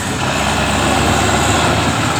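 A tractor's engine drones steadily and loudly as it reverses a heavy trolley, a dense low rumble with no pauses throughout.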